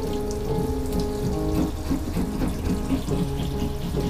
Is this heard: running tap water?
yes